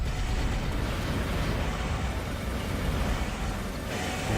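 Rocket blasts from mech combat in Armored Core, a loud sustained roar of explosive bursts with rumbling low end filling the whole stretch, no voices.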